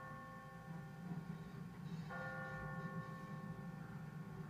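A church bell rings in The Walking Dead video game, sustained tolling tones that ring on and overlap faintly at a distance.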